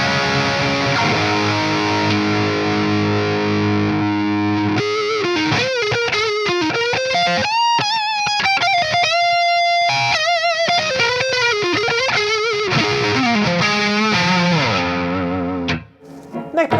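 An electric guitar played through an EVH 5150III 6L6 amplifier with heavy distortion and a noise gate, sustained chords giving way to fast, bending lead lines, loud and continuous with a sudden cutoff near the end.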